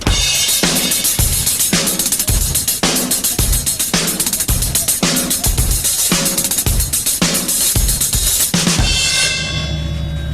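A full drum kit groove keeps a steady pattern of single hi-hat strokes over kick and snare, with quick five-stroke rolls on the hi-hat dropped in, loud and close throughout before a ringing cymbal tail at the end.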